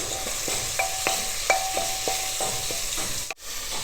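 Two medium onions sizzle in hot coconut oil in a pressure cooker for a Kerala-style chickpea curry, a steady close frying hiss broken by a regular tapping of a spoon stirring against the pot.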